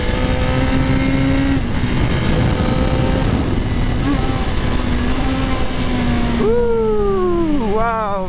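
A motorcycle rides laps of the Willow race track on a very windy day, a steady engine drone under heavy wind buffeting, with rising and falling revs as it shifts and accelerates near the end.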